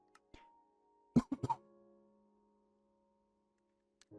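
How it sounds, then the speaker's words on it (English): A short, soft cough from one person, a few quick bursts close together, in a quiet room with faint background hum and otherwise near silence. "That was a little cough there."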